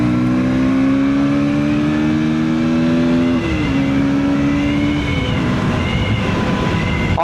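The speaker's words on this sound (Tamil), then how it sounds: "எக்ஸாஸ்ட் நோட் நீங்கள் வந்து நோட் பண்ணியிருப்பீங்க, எக்ஸாஸ்ட் நோட்டும் ஸ்போர்ட்டியராக நம்மளுக்கு வந்து கொடுத்துருக்காங்க" Exhaust note of a KTM Duke 160 motorcycle revving. A loud, steady droning tone holds, dips in pitch midway, then climbs again amid rough engine noise, with no talking.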